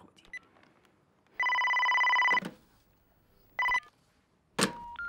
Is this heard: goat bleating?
no